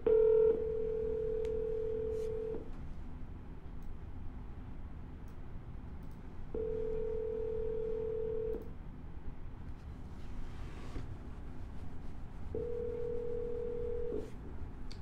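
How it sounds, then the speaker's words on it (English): Telephone ringback tones on an outgoing call, three steady single-pitch tones each lasting about two seconds and separated by pauses of roughly four seconds, over a low background hum with no talk. "And we're dialing."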